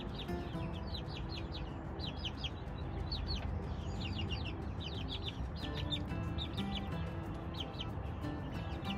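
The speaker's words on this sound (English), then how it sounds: "Chickens are out running around." Several chickens cluck and chirp in busy bursts over a steady, loud background hum, with calls overlapping throughout.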